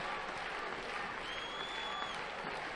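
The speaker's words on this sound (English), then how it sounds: "there's some clapping by way of encouragement that has MUNKHBAT attacking right-sided" Scattered clapping from a judo crowd at the Paris Grand Slam women's -48kg final, steady and moderate, with a faint whistle-like tone over it, following a few boos.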